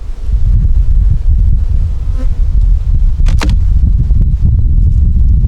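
A steady, dense buzz of honeybees at a hive box in winter fills the whole stretch, loud and close, droning without pause.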